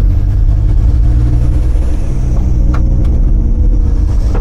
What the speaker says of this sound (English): Sounds kind of fruity because there's no exhaust on it,